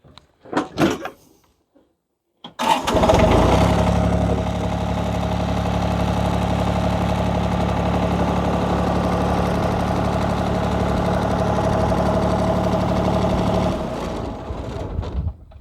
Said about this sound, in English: Now we have to start the tractor and use the hydraulics to lift the arms off.